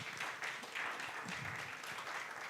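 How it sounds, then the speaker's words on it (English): Audience applause for the panelists at the close of a session at the West Africa Media Excellence Conference and Awards, a steady soft patter of clapping that stays fairly faint and even throughout. "a big round of applause to my panelists"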